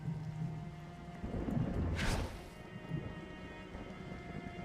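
The Wrathful Rain ability in Othercide brings a steady hiss of rain under a deep rolling thunder rumble that swells to a sharp crack midway before easing back into the rainfall.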